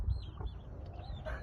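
A Pure Griffin Claret gamecock, a large brood cock on a Texas game-fowl farm, gives a few soft, close clucks over low background rumble and farmyard noise.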